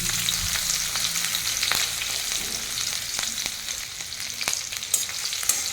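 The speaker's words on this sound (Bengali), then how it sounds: "হালকা একটু নাড়িয়ে চাড়িয়ে ভেজে নেব, এই আদা রসুনের একটু কাঁচা ভাবটা চলে যাওয়া পর্যন্ত" Green chilies, chopped ginger and garlic frying in hot oil in a wok for chili chicken, a steady close hiss of sizzling with occasional scrapes and clicks of stirring, no voices.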